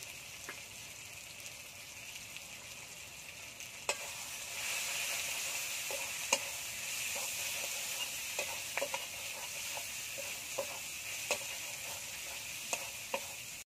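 Meat fries in a pan with turmeric and chili powder, giving a constant, even sizzle while a utensil scrapes and taps the pan at irregular intervals, with no talking.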